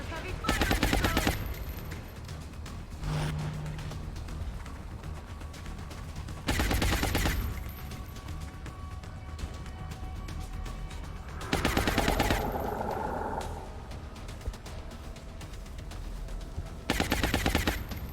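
Heavy gunfire in the XCOM Long War video game comes in four loud bursts of rapid automatic fire, spaced several seconds apart, with a steady hum of game ambience between them.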